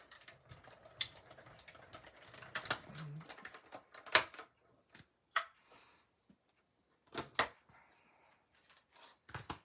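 Paper run through a cutting board trimmer while making Christmas tags, giving quiet clicks and a few sharp snapping clacks spaced unevenly, close and dry with pauses between.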